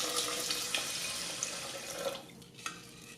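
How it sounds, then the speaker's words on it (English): Water is poured into the rice container of an Instant Pot Duo Mini holding drained basmati rice, giving a soft continuous splashing stream up close, with a few brief drips near the end. "put the rice in, and pour in 3 cups of water measured using this cup"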